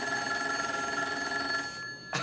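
A telephone rings with a steady, continuous electronic tone for nearly two seconds, then stops and a brief burst of noise follows.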